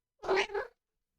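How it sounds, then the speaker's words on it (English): A cat gives one short two-part meow, close and clear, against an otherwise silent background. "just a cat."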